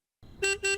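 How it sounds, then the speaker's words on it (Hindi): Two short car horn honks outside in quick succession, fairly loud and slightly distant, with a low background rumble. "देखो कोई बाहर हॉर्न बजा रहा है।"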